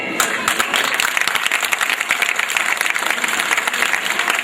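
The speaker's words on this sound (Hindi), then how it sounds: "आज अगर आप ताली बजाएंगे" An audience at a girls' school sports day claps in dense, steady applause, many hands close by and loud throughout.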